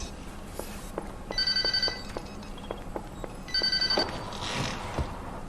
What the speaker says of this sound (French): oh mon Dieu. C'est mon téléphone.